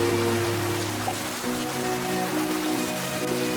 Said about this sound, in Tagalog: Bilisan mo, ang lakas ng ulan.